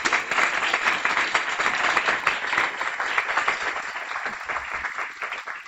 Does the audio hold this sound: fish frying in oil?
no